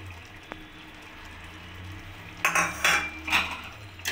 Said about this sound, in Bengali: এবার ধনেপাতাটা আমি ভালো করে পাস্তার সাথে মিক্সড করে নেব।